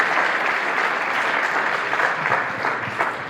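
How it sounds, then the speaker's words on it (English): An event audience breaks into steady, dense applause, a continuous wash of many hands clapping together at even loudness throughout, with no voices standing out. "I want to ask you to give a special round of applause for Sai"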